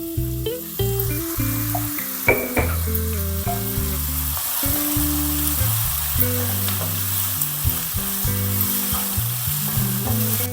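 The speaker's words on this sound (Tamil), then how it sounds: "இந்த வெங்காயம் வதங்குறது கொஞ்சம் உப்பு சேர்த்துக்கலாங்க." Onions with a little salt sauté in a pan for paneer masala, giving a steady sizzle broken by repeated stirring and scraping knocks, close and loud with no talking.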